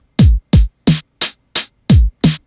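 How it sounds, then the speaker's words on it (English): Drum loop run through the Ableton Live 10 Drum Bus effect at default settings: seven loud, close, punchy hits with booming low kick thumps alternating with snappier snare-like strikes, separated by clean silence. "So let's go ahead and throw the drum bus effect on there."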